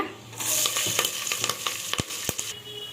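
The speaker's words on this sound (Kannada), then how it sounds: "ಒಂದು ಚಿಕ್ಕ ಈರುಳ್ಳಿ, ಸ್ವಲ್ಪ ಕರಿಬೇವು ಸೊಪ್ಪು ಒಗ್ಗರಣೆಗೆ ಹಾಕಿ ಸ್ವಲ್ಪ ಫ್ರೈ ಮಾಡೋಣ" Chopped onion and curry leaves fry in hot oil in a cooker, a close, crackling sizzle with a few sharp pops and stirring scrapes over about three seconds.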